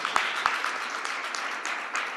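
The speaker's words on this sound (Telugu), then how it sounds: "విశ్వసించిన వారు చప్పట్లు కొట్టి ప్రభువును స్తుతిద్దాం." A church congregation claps in praise, a dense, fairly even patter of many hands with a couple of sharper nearby claps, heard at moderate distance during a sermon.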